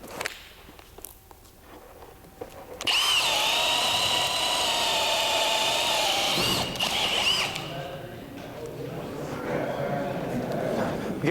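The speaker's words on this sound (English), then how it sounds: "I put it in the brushless drill" Brushless cordless drill at a woodworking club demo, spinning with a high whine for about four seconds in a quiet room, with speech before and after.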